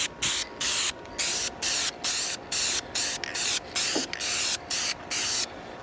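An aerosol spray can, already shaken, lays a light coat during an RV bathroom renovation: a dozen short, even hissing bursts repeat in a steady rhythm with brief gaps, close and alone.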